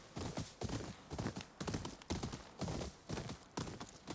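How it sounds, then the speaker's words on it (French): Horse hooves clip-clopping in the video game Ghost of Yōtei, a quiet, evenly paced trot of repeated hoofbeats, with no talk. "J'ai entendu un autre cheval que le mien."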